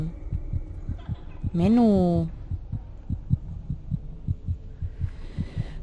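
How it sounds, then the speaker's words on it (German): Steady rhythmic heartbeat thumps from the Among The Sleep video game pulse throughout at a regular pace, with a brief spoken word over them partway through. "Was bedeutet denn das Herzklopfen?"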